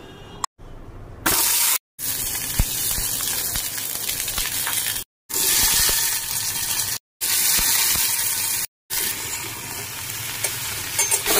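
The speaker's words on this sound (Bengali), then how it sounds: "আমি জাস্ট এগুলোকে একটু ফ্রাই করে নেব।" Onion, carrot and green chilli frying in oil give a loud, steady sizzle with bursts of stirring, broken by several brief silent cuts, with no talk.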